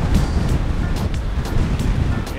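Strong wind buffets and roars in continuous low rumbling gusts, surging every half second or so, loud and close against the microphone, with no one talking.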